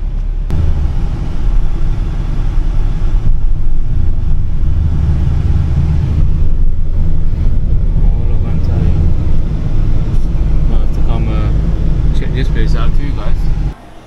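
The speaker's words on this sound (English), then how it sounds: "first time I see traffic in Antalya" Busy street traffic in Antalya, Turkey, a steady loud rumble of engines and passing vehicles near a market, with people talking over it throughout.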